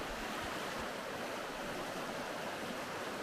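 A river rushes through a canyon in Oulanka National Park, heard from a bridge as a steady, full broadband roar of flowing water with no talking.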